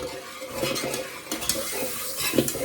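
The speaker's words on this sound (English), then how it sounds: "you've got to stir that for 2 minutes now" Close, continuous stirring of candle wax in a container, a soft scraping swish with light clinks against the sides.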